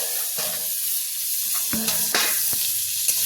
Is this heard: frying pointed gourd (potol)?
yes